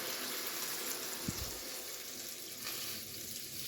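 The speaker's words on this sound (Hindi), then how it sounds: "अब क्या करेंगे, हम लोग पानी डालेंगे। डाल रहे हैं" Water poured from a tap or jug into a cooking pot for masala Maggi noodles, a steady close splashing wash with no talk over it.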